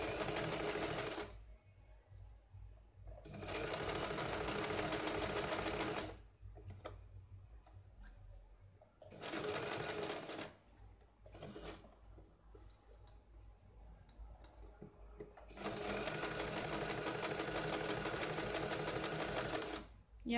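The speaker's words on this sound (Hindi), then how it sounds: "यहाँ पे हमें गले के ऊपर पहले सिलाई लगानी है।" A sewing machine stitches along the neckline of a blouse in loud, steady whirring bursts separated by quieter pauses, with faint speech and handling sounds between the runs.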